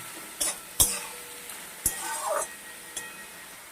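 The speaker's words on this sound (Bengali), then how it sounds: "ফরাস বীজিগুলা দিয়ে ভালো করে নাড়াচাড়া করে দিচ্ছি" Bathua greens and French beans stirred in a pan, a few sharp utensil scrapes and clinks standing out over a faint sizzle, close by with no talking.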